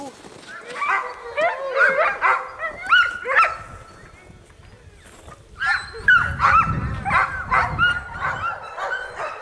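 A pack of sled dogs at a kennel barks, yips and whines, a dense and overlapping chorus with a lull in the middle, close and loud, while people talk underneath.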